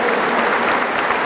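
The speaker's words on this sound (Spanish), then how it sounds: "denle un aplauso al Rey de Reyes" A church congregation applauds together during a healing service in Tegucigalpa, Honduras, giving a dense, steady wash of clapping from many hands that stays loud and even throughout.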